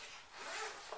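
A short, close zip pulled open on the front pocket of a light fabric carry bag that converts into a shopping trolley, a quick raspy rip lasting about a second.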